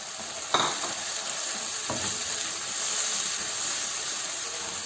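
Finely chopped tomato lands in sizzling oil with dal masala and sets off a loud, continuous hiss. Two brief clatters and stirring scrapes come early on.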